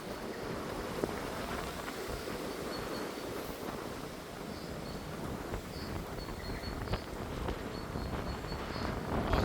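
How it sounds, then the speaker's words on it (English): Gusty wind blowing outdoors in Central Park, a soft continuous rumble and buffeting that swells slightly toward the end, fairly quiet overall. "super windy."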